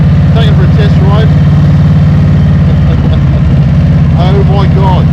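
A 2024 Harley-Davidson CVO Road Glide motorcycle engine rumbles loudly and continuously in a deep, pulsing idle, with a voice talking over it throughout.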